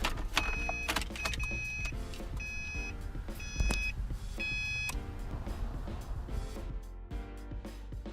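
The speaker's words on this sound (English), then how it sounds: "we'll start up the car." A Subaru Impreza being started at dusk: repeated electronic chimes and beeps ring out in a regular pattern over a low idle-like hum and faint mechanical clicks, with no speech.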